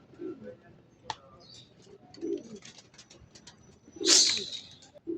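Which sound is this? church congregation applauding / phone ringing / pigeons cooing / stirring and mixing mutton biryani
pigeons cooing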